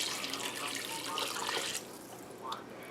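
Hot water pours from a tap or kettle into a pot of beef barley stew, a close, bright splashing stream that eases off midway and trickles.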